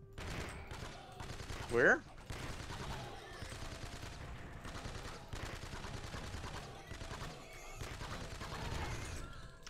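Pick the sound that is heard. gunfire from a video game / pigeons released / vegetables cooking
gunfire from a video game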